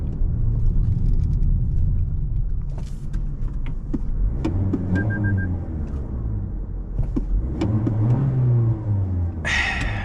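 A 2025 Toyota Corolla LE engine drones and rumbles as it accelerates on a test drive, a steady coarse hum heard from inside the cabin with no talk.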